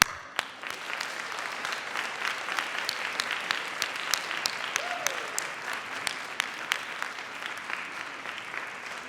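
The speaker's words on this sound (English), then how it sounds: "give their friends and family a wave and a round of applause," Graduates at a University of Manchester School of Health Sciences graduation ceremony applaud their friends and family, a large hall of steady clapping with sharper individual claps standing out.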